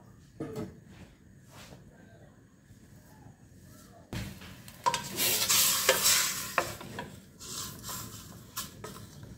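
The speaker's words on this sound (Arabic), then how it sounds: "صافي نخلي الدجاج ديالنا يتشحر" Chicken pieces browning in a hot pan, a quiet start with a few knocks, then a louder sizzle and stirring scrapes in the second half, with faint voice or background murmur.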